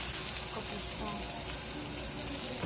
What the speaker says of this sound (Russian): У меня прям здесь все пурлит, шипит, кипит.